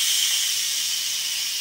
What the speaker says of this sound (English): We are releasing the steam out of our smoked turkey.